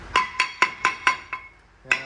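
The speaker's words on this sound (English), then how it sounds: "spray with some penetrant and smack it with a hammer" A hammer smacks a rusted brake rotor on a 2005 Chevy Express 2500 van, landing six quick metallic clanging blows in a steady rhythm, then a pause and one more ringing hit, close and loud.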